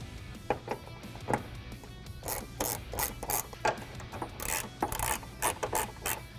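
Nuts being tightened onto studs to fix a light bracket under the hood of a 2019-2023 Ford Ranger, giving close, irregular ratcheting clicks and metallic rubs in short bursts over a faint steady background.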